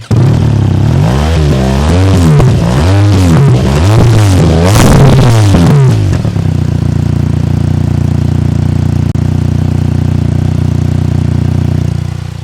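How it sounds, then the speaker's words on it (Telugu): BMW R1300 GSA motorcycle on its stock exhaust, revved hard in repeated rising and falling blips for about six seconds, then settling into a steady, loud idle. "జస్ట్ స్టాక్ ఎగ్జాస్ట్ సౌండే ఇలా ఉంటే"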